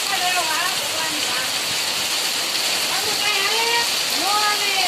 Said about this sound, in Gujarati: જો વરસાદ કેવો પડે છે.